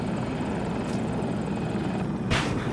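Helicopter rotor and engine noise in a video game, a steady loud drone filling the scene with a brief burst near the end.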